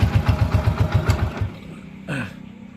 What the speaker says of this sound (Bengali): দেখতে পাচ্ছেন আমাদের বাইকের সাউন্ড পুরো স্মুথ সাউন্ড হয়ে গেছে